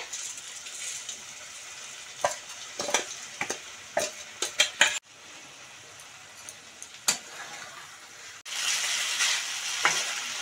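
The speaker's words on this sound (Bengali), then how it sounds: "মশলাটা কষে গেছে, এবার আমি চালটা দিয়ে দিচ্ছি এতে।" Rice stirred into sizzling fried masala for a Kuche fish biryani: a close, continuous sizzle broken by sharp spoon scrapes and clinks, swelling louder near the end.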